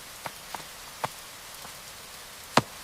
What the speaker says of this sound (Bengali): এই যে দেখো, তোমাদের সাথে কথা বলতে বলতেই বৃষ্টি চলে আসছে।